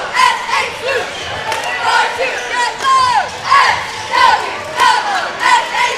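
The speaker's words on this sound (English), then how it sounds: "the crowd for Gatesville is going crazy, showing the appreciation" A basketball crowd at a Gatesville boys' bi-district playoff game erupts in loud, sustained cheering and shouting after a dunk, with repeated surging roars that rise and fall across the whole stretch.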